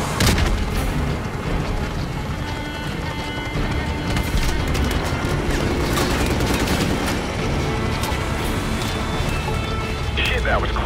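Rocket-propelled grenade launches and explosions rumble through a continuous dense battle din in Call of Duty Modern Warfare Remastered, with heavy gunfire and booming blasts layered throughout and voices underneath.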